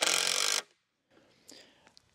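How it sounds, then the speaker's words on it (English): A power drill drives a screw into a solar panel mounting post, a loud, steady whirring burst for about half a second that stops abruptly, followed by faint handling clatter. "I'm gonna grab the drill and we will put a screw in here."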